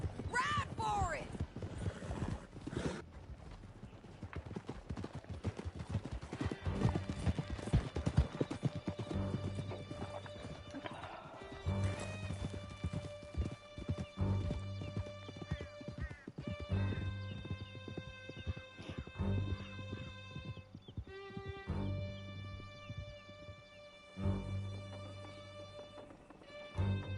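Horses galloping hard through a canyon in a video game, a dense rapid clip-clop of hooves with an occasional whinny, running under dramatic music and bursts of character dialogue.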